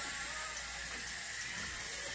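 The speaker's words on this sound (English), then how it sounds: "I'm just gonna keep straining it until the water gets clear." Water runs steadily from a sink tap while brown rice is rinsed and strained, a continuous hissing splash heard close and alone at low volume.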